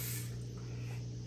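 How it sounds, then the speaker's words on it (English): A short, steady hiss of cooking spray from a can into a pot, close and continuous for about a second over a low hum. "So first I'm going to spray the pot"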